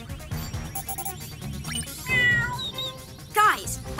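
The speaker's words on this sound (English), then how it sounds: "I'm picking up bird and cat sounds coming from the park." A cartoon cat meows near a park in a children's animated superhero show, brief meow calls rising over background music and character voices.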